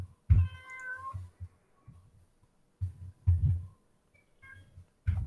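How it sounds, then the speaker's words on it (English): A pet cat meows loudly nearby a few times, with soft thumps and faint bumps in the room between the calls. "There was some noise in the background there. That's my cat."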